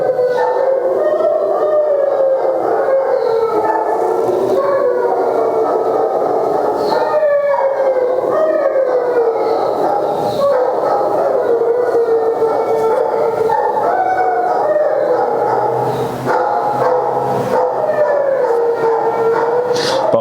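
Neighbourhood dogs howl continuously in long, wavering, siren-like tones, several voices overlapping at moderate distance for the whole stretch with no talk.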